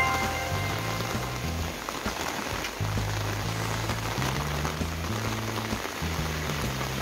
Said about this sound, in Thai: ตอนนี้ฝนกำลังตกเลยนะคะ